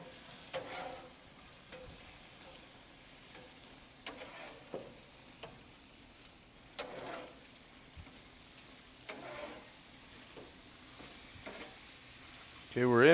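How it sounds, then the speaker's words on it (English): Fatty meat grills and sizzles in its own rendered fat, a faint steady crackle punctuated by scattered sharper pops and spits, heard close but quiet. "But you're not just cooking it in its own fat. You're grilling some of it off."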